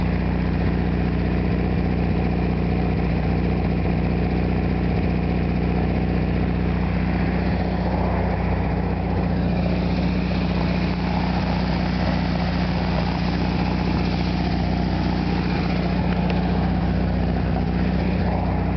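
A 1973 Volkswagen Super Beetle engine idles at about 800 rpm, a steady, loud, low rumble that holds unchanged throughout with no voices.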